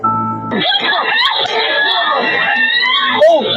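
A shrill, wavering scream rises sharply and carries for several seconds, loud and close, with pitch sliding up and down.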